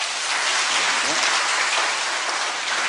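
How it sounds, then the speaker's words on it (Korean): A church congregation at an afternoon worship service gives big applause to a discipleship training class. The clapping is a thick, continuous, rain-like patter from many hands, fairly close and steady throughout. "우리 4기생 일동을, 제자훈련들을 분반들을 큰 박수로"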